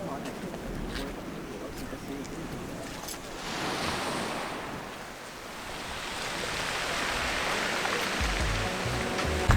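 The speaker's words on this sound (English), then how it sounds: "It's quite windy up those cliffs." Wind sweeps over the Normandy cliffs above a pebble beach, a broad rushing roar that swells and eases, buffeting the microphone with low rumbles, while surf murmurs faintly below.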